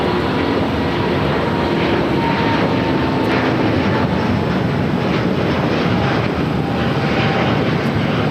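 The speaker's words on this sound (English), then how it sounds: "we do have that Delta A350 heading to Atlanta now" Loud, continuous roar of a Delta Airbus A350 taking off from runway 25 right at LAX, a dense broadband rumble holding steady throughout.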